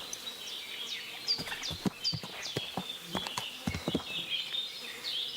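Horse hooves clip-clop at a steady riding pace in the video game Kingdom Come: Deliverance 2, a quiet rhythmic series of close hoofbeats with faint buzzing insects in the background.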